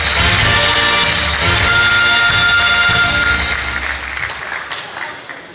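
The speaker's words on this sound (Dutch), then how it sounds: "Heb ik graag een kort applaus voor." Audience at a carnival session (Kènjerzitting) applauding briefly, loud and dense clapping that fills the room, with music or band tones underneath, tapering off toward the end.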